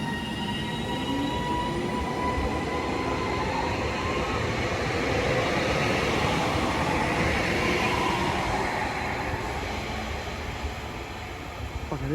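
A Class 331 electric multiple unit bound for Manchester Airport pulls out of Newton-le-Willows station, a steady loud rumble of wheels and motors filling the whole stretch, with faint rising squeals and no talk.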